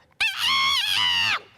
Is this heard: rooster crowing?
yes